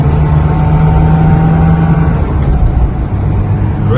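Inside a BMW E9 3.0 CSI pulling uphill in first gear on a country road, the engine drones loud and steady with a sustained low tone that shifts slightly partway through.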